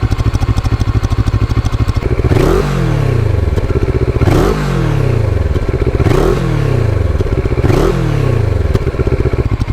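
Moto Morini 6 1/2 motorcycle engine and exhaust, a close, bassy, steady idle that is repeatedly revved with four rising-and-falling blips at regular intervals, loud and without talking.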